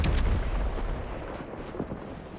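A bandage bazooka firing in the video game Fortnite, a loud, booming launch with a rumbling low end that fades out over a couple of seconds.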